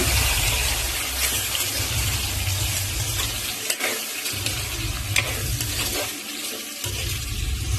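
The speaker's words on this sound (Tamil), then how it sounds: "முள்ளங்கி வந்து நல்லா வதங்கணும் எண்ணெயில" Round slices of radish sautéing in hot oil for sambar, a continuous close sizzle and frying hiss with occasional scraping and brief lulls, no voices.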